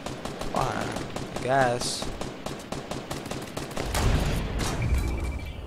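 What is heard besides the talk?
gunfire in a video game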